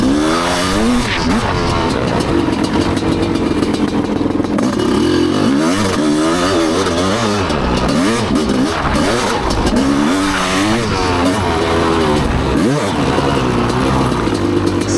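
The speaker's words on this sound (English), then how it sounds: "sometimes you gotta build those revs, or on the CR500, you gotta use the clutch to make sure you don't loop the fucking thing over backwards" A Honda CR500 dirt bike ridden hard under lights at night revs up and down repeatedly. The loud, continuous engine note rises and falls throughout, close to the rider.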